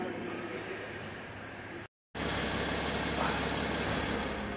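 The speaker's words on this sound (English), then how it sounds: "now you can hear the compressor kick in." A Mercedes with Airmatic air suspension, just repaired, runs as its compressor drones steadily alongside the engine idle, a constant mid-pitched hum that cuts out briefly partway through.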